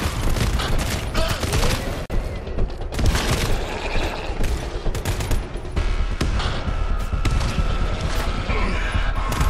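Sustained automatic gunfire from the video game GTFO, dense rapid bursts and booms filling the whole stretch with mechanical weapon clatter, loud and continuous.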